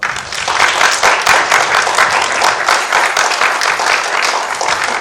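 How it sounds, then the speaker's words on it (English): An audience at an evening book talk breaks into sustained, dense applause, with many hands clapping steadily and loudly throughout, and no voices rising above it. "Can we give them a round of applause?"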